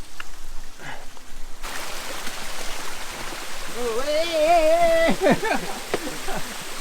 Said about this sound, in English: I see the waterfall.